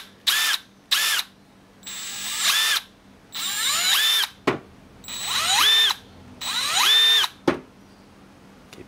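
A Milwaukee M12 FDD 4-in-1 cordless drill driver whirs in about six close, loud bursts, each spinning up to a steady whine and winding back down, with short quiet gaps between and no talking.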